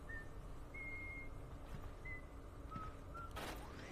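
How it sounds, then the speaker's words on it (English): Luigi whistles his theme in the Luigi's Mansion video game: a few short, thin whistled notes, spaced apart, over a steady game-ambience drone, with a brief noisy burst near the end. "now that the room's lit, he'll whistle his theme"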